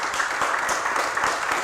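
Applause at a Spanish-language talk show event on religion, a short burst of crowd clapping, moderately loud and fairly steady, heard without any talk over it.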